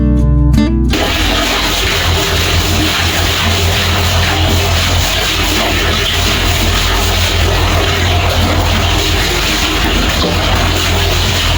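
Clothes are scrubbed by hand with a brush, soap and water, heard as a loud, continuous rush of running water after a brief opening sound, steady with no talk.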